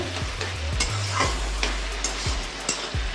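Snake gourd fries in a pan with a steady sizzle, while a utensil stirs and scrapes it in repeated close strokes, with no talking.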